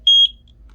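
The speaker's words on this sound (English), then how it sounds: "Press and hold the setup button until you hear a beep." A single short, clear electronic beep from an Anker Eufy 2K indoor pan-and-tilt security camera as its setup button is held, sounding close and alone against a quiet room.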